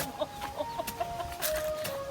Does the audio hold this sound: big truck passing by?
no